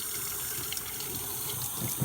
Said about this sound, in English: So what I'm gonna do is I'm gonna turn on some hot water.